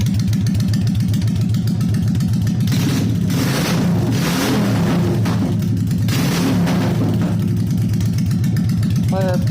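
A warmed-up 2001 Honda Shadow ACE 750 lowrider engine idles loudly at close range, then is blipped twice into throaty revs before settling back to a lumpy idle.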